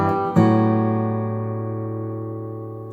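Fingerstyle guitar chords with part of the first chord ringing on as a second chord is plucked, the notes sustaining together and slowly decaying, close and clear with no talking.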